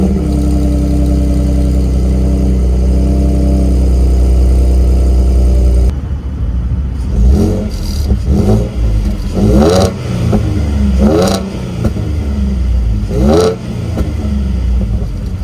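A 2023 Ford F-150 V6 engine idles with a steady low hum, then is revved repeatedly in short bursts, the pitch climbing and falling with each throttle blip.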